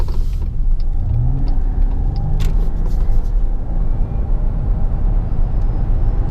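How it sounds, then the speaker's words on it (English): A Chrysler Pacifica plug-in hybrid van accelerates uphill, producing a steady low rumble of road and engine noise that builds slightly, heard from inside the cabin. "So we're getting ready to accelerate up the hill here"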